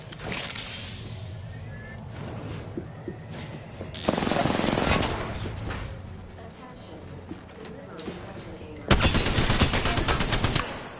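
Gunfire in Apex Legends, loud bursts of rapid automatic shots in two dense volleys, with game sounds and a voice talking in between.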